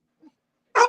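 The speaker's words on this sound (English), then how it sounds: "He's barking because he wants the geckos" A pet dog named Maddox barking indoors: a faint low yip followed by one short, sharp bark, close and alone in a quiet room.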